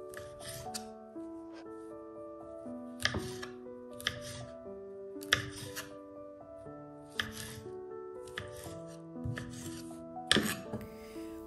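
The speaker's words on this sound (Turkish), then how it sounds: "Mandalina kabuklarını doğradım." A knife chops tangerine peels on a board, giving irregular soft thuds and knocks over steady background music.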